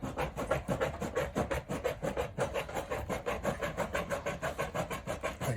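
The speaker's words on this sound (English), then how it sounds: "I have these Midwest snips. They're really nice. You can get them in there. And you want to cut up the panel." Midwest tin snips cut through a steel board and batten siding panel in a fast, even series of crunching, rasping bites, close and steady throughout.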